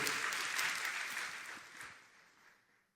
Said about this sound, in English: One more time, a round of applause for her before she takes over the microphone